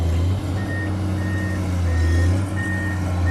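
Komatsu PC210 21-ton excavator sounding a steady series of evenly spaced warning beeps over its loud, continuous diesel engine rumble, close by with no voices.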